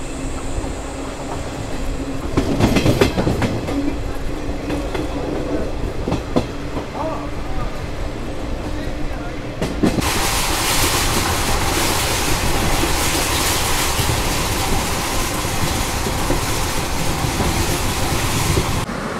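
A passenger train from Bengaluru to Chikmagalur rattles along with a constant rumble and clickety-clack, and the noise swells into a louder, brighter roar about halfway through.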